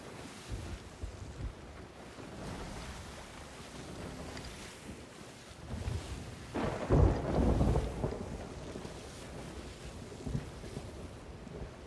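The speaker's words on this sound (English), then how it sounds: "Oh, I think we're starting to enter the storm." Stormy sea in a pirate-ship video game: a steady wind-and-surf roar with choppy waves, swelling into a deep rumbling gust or thunder-like boom midway before settling back, with no talking.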